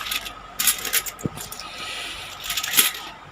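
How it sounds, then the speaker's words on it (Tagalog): Twenty-peso coins saved in a Wilkins bottle clink and jingle as a pile is handled and counted, scattered metallic clatters and rattles in short bursts, close and fairly loud. "Tambak. Puro tigbibinting barya."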